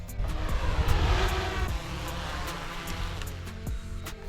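A mapping drone used for thermal leak-finding flies in to land on a hot day, its rotor whine steady and fairly close, swelling slightly then holding at a constant level with faint periodic ticks.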